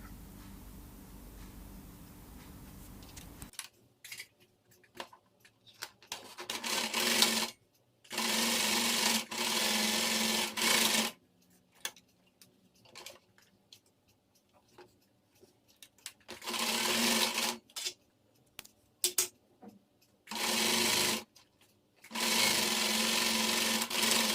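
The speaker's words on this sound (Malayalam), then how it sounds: "എന്നിട്ട് തുറന്നിരിക്കണ ആ 2 ഭാഗവും സ്റ്റിച്ച് ചെയ്ത് കൊടുക്കുക." Sewing machine stitching the open edges of cloth for a homemade surgical mask, in several loud sustained bursts separated by pauses, close and alone without talk.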